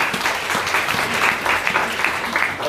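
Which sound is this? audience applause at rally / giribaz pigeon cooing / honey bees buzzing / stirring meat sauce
audience applause at rally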